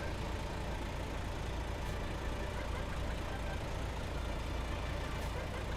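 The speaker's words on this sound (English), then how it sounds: "This engine is a bit loud, I know." Heavy truck engine idling in American Truck Simulator, a steady, loud, unchanging rumble that fills the whole stretch with no pauses.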